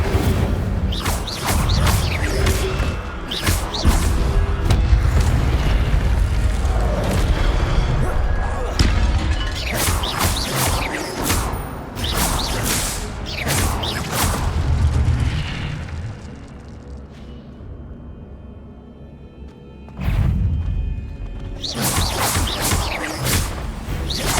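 Incendio fire spell blasts in Hogwarts Legacy, loud fiery bursts and crashing booms repeating through a long stretch of combat, with a brief lull before the blasts resume and little talking.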